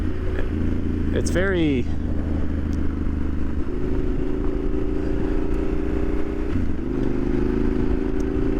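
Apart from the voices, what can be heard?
Yamaha Super Ténéré 1200 motorcycle engine riding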